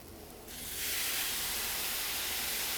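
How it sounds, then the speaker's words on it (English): Warm stock poured into a pan of rice, a steady broad hiss and sizzle that swells after half a second and holds, fairly faint. "So that sizzle is what you want to hear."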